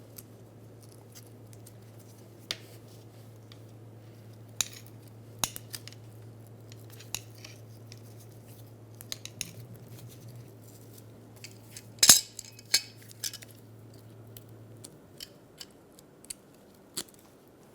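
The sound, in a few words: metal hose clamps swapped onto new power steering hose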